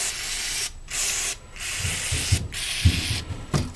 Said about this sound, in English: usually it's a good idea to spray and get rid of any loose stuff